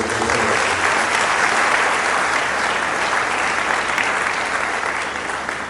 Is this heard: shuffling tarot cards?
no